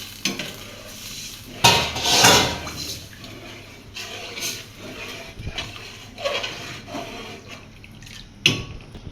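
Broth goes into a cooking pot with a sloshing pour, then comes spoon scraping and clattering against the pot, and several short bursts of liquid and metal knocks at close range.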